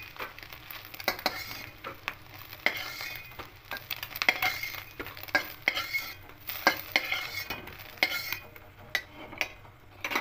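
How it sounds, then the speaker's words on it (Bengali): Eggs fry in mustard oil in a pan for khichuri, a soft sizzle under frequent clinks and scrapes of a utensil stirring against the metal, close and moderately loud. "এইভাবে ডিমগুলোকে ভেজে নিচ্ছি দেখুন।"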